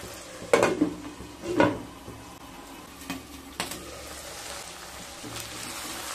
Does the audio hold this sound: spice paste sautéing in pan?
yes